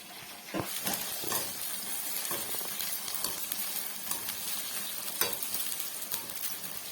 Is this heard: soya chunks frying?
yes